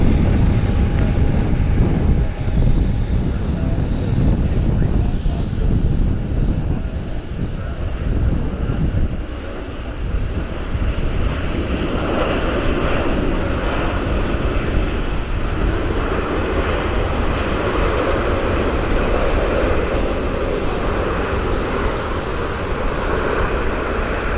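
A Flagship Valor airliner arriving from Dallas at Columbus airport, heard as a steady, broad jet roar that holds loud and even throughout, with no talk.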